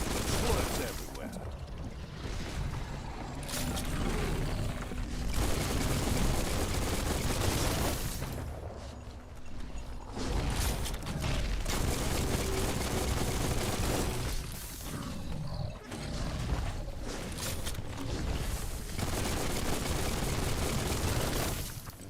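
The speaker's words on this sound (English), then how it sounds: "I'm holding right and just shooting my gun." Sustained gunfire from the player's weapon in the video game Biomutant, a dense stream of shots with brief lulls, loud and close, with other game sounds around it.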